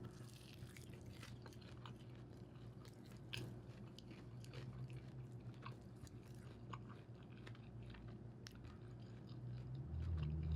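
Someone chews a Wingstop Cajun snack up close, with soft repeated crunches and moist mouth sounds over a steady low background hum for about ten seconds.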